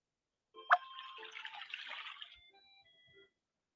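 A single pour of water from a jug into a bucket: a sharp splash at the start, then a splashing gurgle that fades after about two seconds, in an otherwise quiet room.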